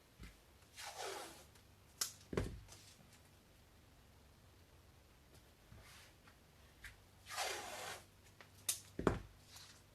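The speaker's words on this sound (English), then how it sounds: "And just tape this." Adhesive tape is pulled and pressed down while building a homemade tabletop battle mat: a few quiet, close, short ripping pulls separated by pauses.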